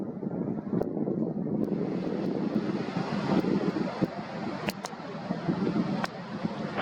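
A Spirit Wings jet takes off from runway 9 at Boston on a foggy day, its engine roar a steady broadband rumble from a distance, with wind buffeting the microphone and a few sharp clicks.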